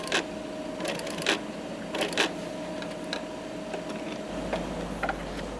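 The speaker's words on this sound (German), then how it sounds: "Sascha Roos näht es an der Ferse zusammen." A sewing machine stitches a straight seam joining a leather high-heel shoe upper at the heel in a shoemaker's workshop, running in short bursts of quiet mechanical ticking and whirring with brief pauses, close and fairly soft, with no talking.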